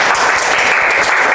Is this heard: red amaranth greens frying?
no